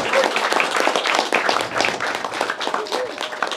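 A crowd at a durian seminar claps steadily and densely, a loud wash of applause that carries on throughout without pause.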